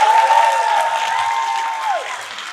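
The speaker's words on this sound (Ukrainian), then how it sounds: "Ну, давайте ще оплески, дайте мені" Applause from the audience at a diploma ceremony for computer science graduates, a brief wash of clapping in a hall with a steady ringing tone over it that fades as the clapping thins.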